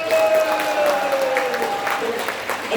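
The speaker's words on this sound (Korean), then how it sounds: "우리 이동호 동지한테 큰 격려의 박수 부탁드립니다." Crowd applause for Lee Dong-ho at a book launch in a Jongno convention hall, a steady, loud roar of many hands, with a sustained tonal hum running underneath.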